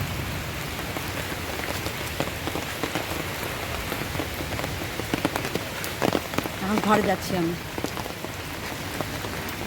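Dense, steady night downpour drumming on surfaces close by, a constant hiss with drop patter; a person speaks briefly partway through.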